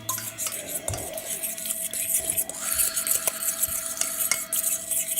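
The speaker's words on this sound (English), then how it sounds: "Stir it up." Garlic stirred in a hot pan, a spoon scraping and clinking against the metal over a steady, quiet sizzle, with a few sharper taps along the way and no talking.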